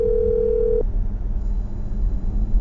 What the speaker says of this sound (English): I'm dialing her phone number.